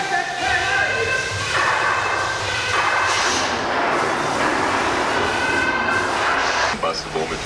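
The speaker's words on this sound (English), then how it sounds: "Get that train out of here!" A Universal Studios backlot tour tram rolls along through a loud staged effects scene, a steady broadband rumble and roar running throughout with shifting tonal effects layered over it.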